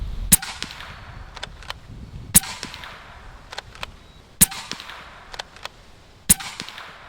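An airgun fires four sharp, evenly spaced shots at targets 60 yards away, each one a crisp crack, with fainter distant ticks from the impacts arriving between the shots.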